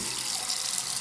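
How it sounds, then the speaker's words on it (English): Hot water running steadily from a tap into a sink, a continuous broad hiss and splash heard alone at close range. "I'm gonna try to get hot water."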